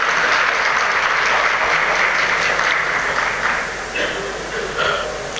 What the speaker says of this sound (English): Can we have a huge round of applause for the team Western Ghaziabad